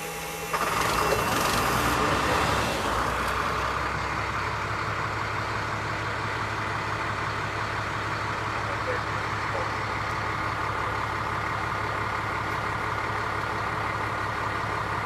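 A fire truck's diesel engine cranks and catches with a loud burst, then settles into a steady, close, rumbling idle that runs on evenly to the end.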